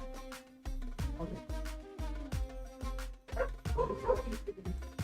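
A dog barks and yips repeatedly in short, loud bursts close by, with whimpering yelps mixed in and a steady background hum underneath.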